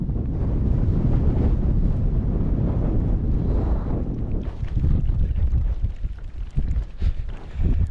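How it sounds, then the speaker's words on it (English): Strong wind gusts roar and buffet through a mountain wild camp in the Cairngorms, a dense, rumbling rush that surges and eases continuously for the whole stretch. "It's a bit windy, but it's not terrible."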